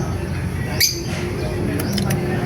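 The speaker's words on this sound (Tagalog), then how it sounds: "Ang ingay po ng ibon." A bird gives a brief, noisy squawk, followed by a few shorter chirps over steady household background noise.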